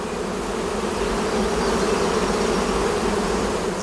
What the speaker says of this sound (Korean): 산속에 가득 울려 퍼지는 꿀벌들의 날갯짓.